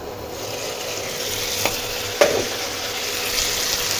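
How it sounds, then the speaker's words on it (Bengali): Cauliflower curry with spices frying in a pan, a steady close hiss of sizzling oil broken by a couple of sharp utensil clicks, with no talking. "এইভাবেই আমি একটু ভালো করে কষিয়ে নেব"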